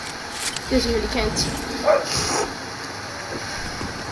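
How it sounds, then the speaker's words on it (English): A dog barks a few times in the background while a person talks over it, the barks brief and somewhat distant. "if you hear that barking in the background, it's just my dogs."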